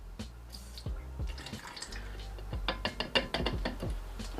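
Clear Car-Chem Hydro Coat sealant, a thin water-like liquid, trickles into a bottle in small drips and splashes, close and fairly quiet, with soft knocks of the container.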